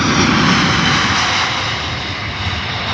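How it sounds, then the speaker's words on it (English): Virgin Atlantic Airbus A330 jet climbing away on departure from Heathrow, a loud, steady broadband engine roar that eases slightly over three seconds, with no voices. "Virgin Atlantic 330 on the departure."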